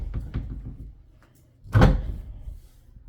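Closet doors in a bedroom of a newly built house open with a single loud clatter around the middle, preceded by a few soft knocks, with no talk.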